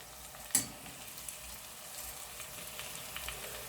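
Red lentils and softened onion are lightly toasted in a pot for lentil soup, a soft steady sizzle after one sharp clink near the start, close and quiet with no talking.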